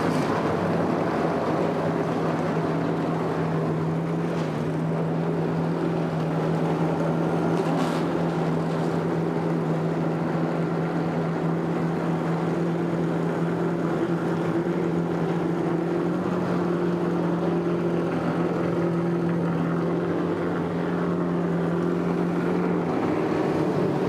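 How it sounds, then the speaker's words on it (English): Stock car engines fire up for the 1999 Bud Shootout at Daytona International Speedway, a sustained, droning mass of idling and revving motors with a steady low hum and occasional sharper blips. "start your engines."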